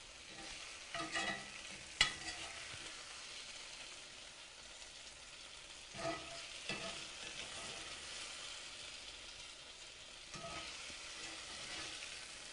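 Beef stir-frying in a pan gives a low, steady sizzle with occasional louder spatters and a sharp clink or two, fairly quiet and uninterrupted by talk.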